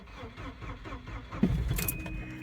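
A 1990 Volvo 245 engine cranks briefly in cold weather and then catches, starting up with a rising rumble in a quiet setting.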